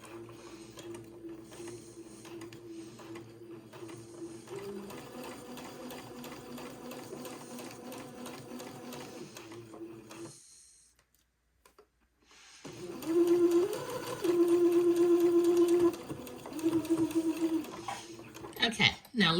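Sewing machine backstitching to tack a waistband together, running in short bursts with a pause between them, a rhythmic mechanical whir and clatter.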